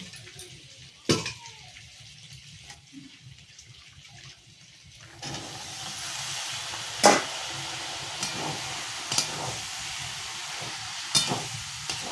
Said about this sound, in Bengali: আর এদিকে মশলা কষাচ্ছি, এখানে ঘুগনির তরকারি হবে